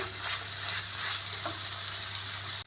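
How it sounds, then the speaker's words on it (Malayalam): Sliced onions sautéing in a pan for beef mappas, stirred now and then, with a steady close sizzle, a low continuous hum underneath and faint scraping strokes rising from the frying throughout. "എന്നിട്ട് നന്നായിട്ടൊന്ന് ഇളക്കി കൊടുക്കാം നമ്മുടെ സവോള ഒരുപാട് അങ്ങ് വഴണ്ട് പോകണ്ട"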